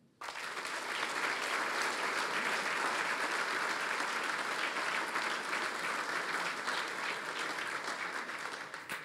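Steady, dense applause from an audience at a military sports awards evening, swelling quickly and holding strong clapping throughout with no voices.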